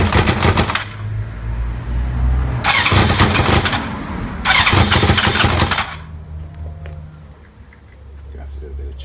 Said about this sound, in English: You have to do a bit of choke just to get it going.